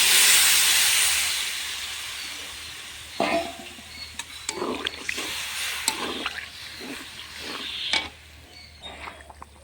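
Water poured into a hot pan of spiced potato and soybean curry, with bursts of hissing steam and sizzling that flare up and settle several times against a steady background hiss, close and fairly loud.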